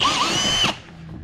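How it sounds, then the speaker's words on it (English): A power drill whines at high speed while widening a hole for a ski tether, loud and close for under a second before cutting off, leaving a quiet tail of room noise. "So we're gonna drill it a little bit more."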